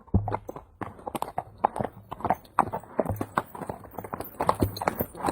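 Horse hooves walking on a hard surface, a steady close clip-clop rhythm of repeated footfalls with little else around.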